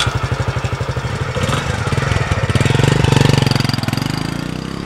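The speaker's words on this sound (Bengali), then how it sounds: "বাইক স্টার্ট দিল।" A motorbike engine starts close by with a quick series of rhythmic firing pulses, then catches and revs into a steady, louder running drone that swells before easing slightly.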